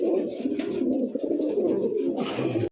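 A Golla-type pigeon with a rounded throat and pink beak coos repeatedly up close in a steady, rhythmic run of low throaty calls, with no talk over it.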